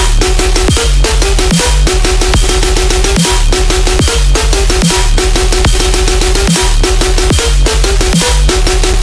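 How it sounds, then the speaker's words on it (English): Aggressive tearout gun bass built with Ableton stock effects, playing a loud, dense, continuous pattern over punchy drums with hard rhythmic kicks and snares, no voices. "So now the final tearout gun sounds like this."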